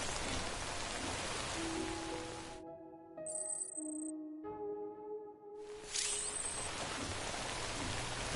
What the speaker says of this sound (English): I don't think this rain's gonna stop.